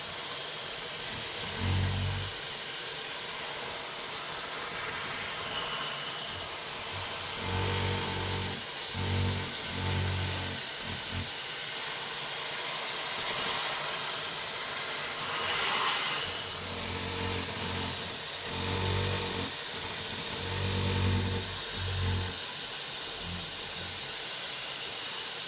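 Steady loud hiss of hot water spraying near a running 8.1 Vortec engine in a motorhome, continuous throughout with low rumbling pulses underneath.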